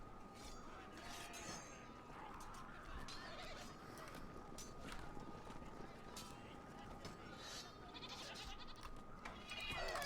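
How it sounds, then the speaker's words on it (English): A horse neighs in a medieval strategy game during a winter battle, a bleating, sheep-like whinny set within dense, low-level battle noise and clatter. "Sounded like a sheep. That's probably meant to be a horse."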